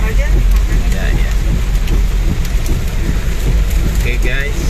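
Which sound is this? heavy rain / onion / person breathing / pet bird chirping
heavy rain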